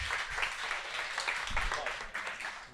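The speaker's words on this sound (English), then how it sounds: "Give applause to the folks that won this round." Applause for the winning teams at a pub quiz, broad clapping noise filling the room for a few seconds, with voices talking over it.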